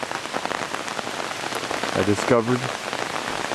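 Steady rain patters on surfaces along a mountain road in the Japan Southern Alps, a dense even hiss throughout, while someone speaks briefly partway through.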